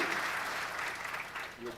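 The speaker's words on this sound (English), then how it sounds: "A round of applause, please." Audience applause at the opening of a city sustainability event in São Paulo, a brief dense wash of clapping with a murmur of voices underneath.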